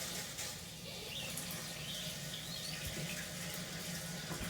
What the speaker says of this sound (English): I'm going to let that toilet fill up.